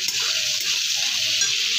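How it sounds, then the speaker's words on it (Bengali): Onions sprinkled with salt fry in a pan with a steady, close hiss of sizzling, and a few faint stirring scrapes come through. "পেঁয়াজগুলো দিয়ে হালকা করে একটু লবণ দেবো, দিয়ে একটু ভাজা করে নেব"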